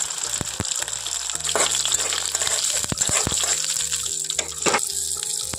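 Panch phoron spices hitting hot oil in a pan with split dried red chilli and slit green chillies, a loud continuous frying sizzle with faint clinks of stirring, close up and without speech.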